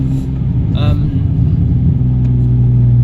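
Ford Mondeo ST220 V6 with a stainless steel exhaust, running cold as a loud, steady, deep engine rumble that swells slightly in pitch, close by, with a voice briefly speaking over it.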